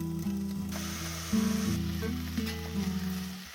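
Onions sizzle steadily in avocado oil in a cast iron pot, close up, with intermittent scraping and stirring clicks over the constant frying hiss.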